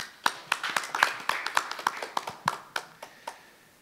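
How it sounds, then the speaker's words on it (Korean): A few people clap in a sparse, uneven rhythm at a robotics conference panel, a dozen or so distinct hand claps close by, fading toward the end. "큰 박수로 맞이해 주십시오"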